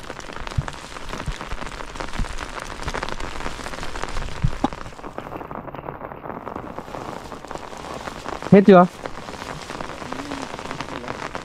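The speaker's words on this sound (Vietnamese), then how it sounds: "mưa đang rất là nhiều" Heavy rain pours steadily onto surfaces outdoors, a dense, continuous hiss with a brief louder clatter near the end and a short spoken question under the downpour.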